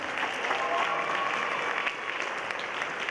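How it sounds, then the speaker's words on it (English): Audience applause at a high school winter concert, many people clapping in a dense continuous wash that holds steady for a few seconds, with faint crowd murmur underneath. "Let's give another round of applause to our concert band"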